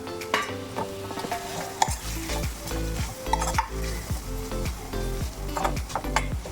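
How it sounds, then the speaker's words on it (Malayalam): Boiled, crumbled beef cooked with chilli powder and masala is tossed into a hot pan for cutlets and stirred, giving a steady sizzle broken by repeated scraping strokes of a spoon against the pan. "ഇതിലേക്ക് നമ്മൾ ബീഫ് പൊടിച്ച വെന്തിട്ട് പൊടിച്ച് വെച്ചേക്കുന്നതാണ് അതാണ് ഇട്ട് കൊടുക്കുന്നത്"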